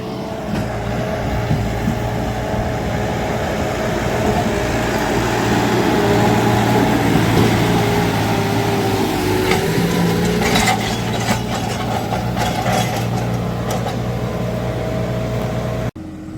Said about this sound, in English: The tractor is just dying here. It's too clay.